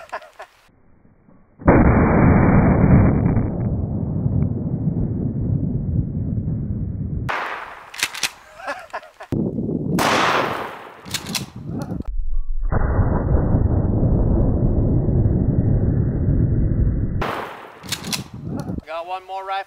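Two loud, sustained roaring blasts from a 1-ounce rifled slug fired at a snowman, each a long broadband burst lasting several seconds, separated by shorter sharp cracks and clatter, all close and powerful.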